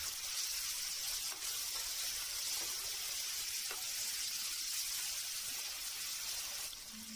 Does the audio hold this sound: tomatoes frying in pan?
yes